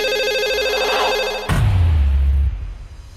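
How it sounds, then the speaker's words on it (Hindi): A mobile phone ringing with a repeating electronic ringtone melody, loud and close, cut off by a sudden low rumbling burst partway through, with no speech. "फोन बज रहा है क्या?"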